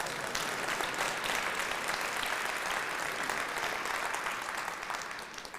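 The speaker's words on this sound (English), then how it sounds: "I know he wants a round of applause." Audience giving a round of applause during a live State of the City address, a steady, dense roar of clapping from a large crowd that holds for several seconds and fades a little at the end.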